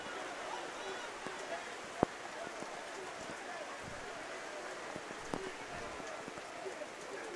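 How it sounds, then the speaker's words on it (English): Steady rain falls at an outdoor high school football game, a constant hiss with faint taps and a couple of sharp knocks, and a voice murmurs faintly in the background. "So not only is the rain raining down"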